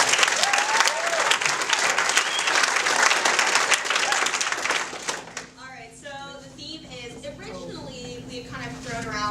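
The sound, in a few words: audience applause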